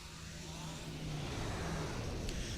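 A starship slipstream jump in the Star Trek Online space game makes a steady, dense rushing roar with a low droning hum underneath, holding loud and even throughout.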